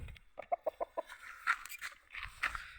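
A Burmese-cross fighting rooster clucks in a quick series of short, fairly close calls, followed by a few louder squawky clucks, with no talking.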